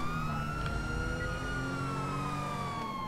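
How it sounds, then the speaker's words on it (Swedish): Police sirens wail continuously in the GTA V LSPDFR police mod during a high-speed car chase, a steady rising-and-falling tone with engine and road rumble underneath, loud and close throughout. "Hör du deras sirener?"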